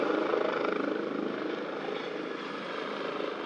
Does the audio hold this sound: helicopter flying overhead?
yes